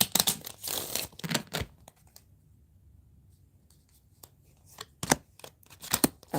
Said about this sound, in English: one more shuffle, y'all.